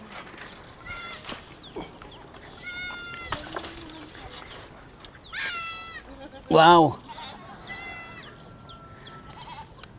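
Goats bleat several times on a farm, wavering cries rising over background chatter, with one loud, close bleat near the end; a person briefly exclaims.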